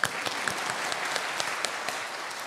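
Church congregation applauding for an actor after a drama worship service, a steady wash of clapping that holds evenly throughout with no voices.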